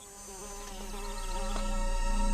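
Killer bees buzz in a steady, wavering drone that swells gradually louder, with no other voices or sounds around.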